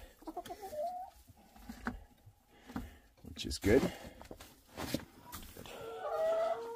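Hens clucking and murmuring nearby in short bursts inside a flooded chicken coop, with a person speaking briefly over them.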